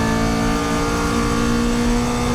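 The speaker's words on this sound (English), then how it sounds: "you can really let the car rip, and you can hear the difference in the car since it's been remapped, the way that it pulls all the way to the red line" A remapped car on the Thruxton Circuit race track roars loud and continuous, the engine pulling hard and revving up toward the red line with a dense, unbroken exhaust note and no voices.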